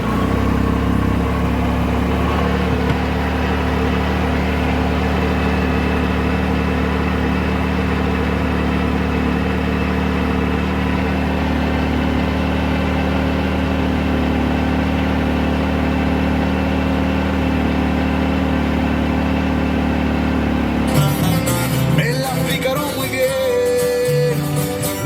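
A Yamaha YXZ 1000R side-by-side engine idles in a loud, steady drone for most of the stretch. Near the end, a sudden, busier burst from the newly installed Rockford Fosgate stereo joins it.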